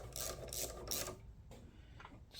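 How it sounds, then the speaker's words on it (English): A 1/4 inch socket ratchet drives a Torx bit into a Snapper 8.75 HP walk-behind lawn mower, giving close, faint bursts of rapid mechanical clicking and whirring in short repeated strokes. "Just using a 1/4 inch socket to run this Torx bit in."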